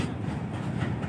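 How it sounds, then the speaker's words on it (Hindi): A goods train rolls past Nirmali railway station, a dense low rumble of wagons with faint rhythmic clatter, steady and close for a brief moment. "जो माल ट्रेन अभी पास हो रहा है निर्मली रेलवे स्टेशन से"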